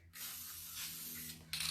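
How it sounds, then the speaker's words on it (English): A close, continuous hiss of a lacquer spray can held upside down, one steady burst lasting over a second with a low hum beneath it. "So I'm going to take this and my spray lacquer and I'm just going to spray it."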